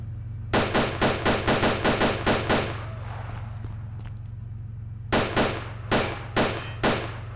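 A player's gun in DayZ fires two bursts of rapid, evenly spaced shots, about a dozen sharp cracks and then four more, loud and close over a low steady hum.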